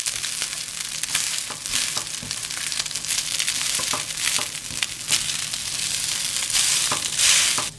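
Three cups of rice stir-fried with cheese powder in a pan, giving a loud, continuous sizzle with repeated scraping and tossing strokes from a spatula, close and with no talk.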